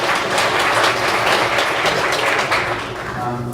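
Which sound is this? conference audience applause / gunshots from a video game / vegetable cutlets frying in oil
conference audience applause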